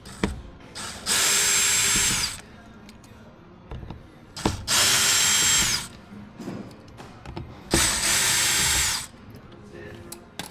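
Three bursts of a power drill or driver undoing a screw on the rear window motor of a Hyundai Ioniq 6, each whirring run about a second long and separated by clicks and handling noise, close by.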